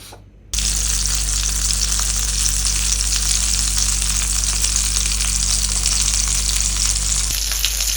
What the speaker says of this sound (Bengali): একটি পিঠ ভাজা হয়ে এসেছে